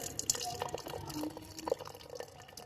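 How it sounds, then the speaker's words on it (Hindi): Hot kahwa green tea with lemon, ginger, mint and cardamom is poured into a cup, a soft close trickle and splash of liquid with faint dripping and light background sounds. "हम लोग जो कहवा बना लिए वो हम लोग अब इस में डालेंगे"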